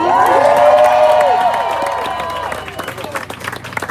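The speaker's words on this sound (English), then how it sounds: "Hands, let's hear it again for Mandy." A crowd at a Hollywood Walk of Fame star ceremony applauds and cheers loudly. Whoops and whistles rise above the clapping early, then the noise settles into scattered applause.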